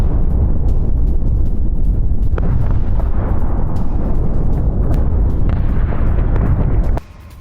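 Loud, rumbling blasts and booms from explosions at a US military base roll continuously in a dense barrage, with sharper cracks scattered through, cutting off abruptly near the end.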